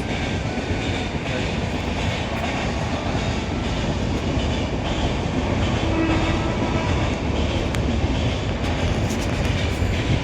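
A train runs along a railway line beside a railway office, a steady, loud rumble with rhythmic clickety-clack of wheels on the track that holds for the whole stretch, with no voices.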